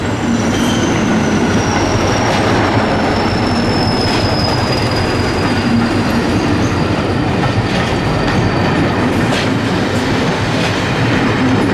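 A Class 201 diesel unit, 201001, passes on a charter service with a loud continuous rumble, rattling wagons and a high wheel squeal drifting through, close and sustained throughout.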